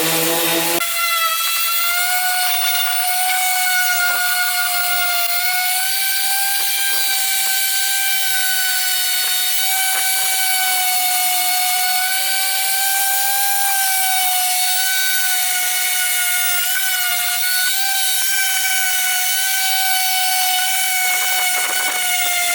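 A power sander grinds steadily on fiberglass filler during rust repair on a car body, a loud continuous whine with shifting tones running unbroken and close for the whole stretch.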